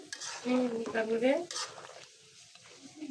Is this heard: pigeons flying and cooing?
no